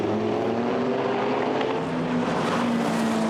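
GT race cars, including a Bentley, brake hard into the first corner at Zandvoort during a sprint-series qualifying race, a loud sustained engine roar with droning harmonic tones shifting in pitch as the cars slow.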